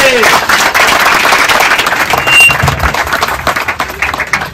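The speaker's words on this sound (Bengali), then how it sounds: "জোরে হাততালি, একটা জোরে হাততালি।" A loud round of audience applause at a student event, many people clapping in a steady, dense burst that stays strong before tapering slightly at the end.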